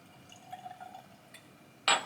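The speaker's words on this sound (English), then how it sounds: "Let's pour these boys and see what it does for us. Do a little small pour, a little nip, if you will." Nobushi Japanese whiskey trickles softly into a glass in a short gentle pour with faint liquid gurgles, ending in a sudden bright clink near the end, close and quiet.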